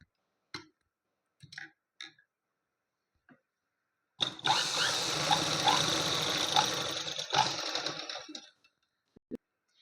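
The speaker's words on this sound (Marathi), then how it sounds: "असं बरोबर एकाला एक जोडून असं बरोबर शिवून घ्यायचं आहे" A sewing machine stitches pieces of net fabric together in one steady run of about four seconds, with scattered handling clicks and rustles before and after.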